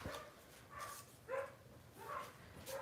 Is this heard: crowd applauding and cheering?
no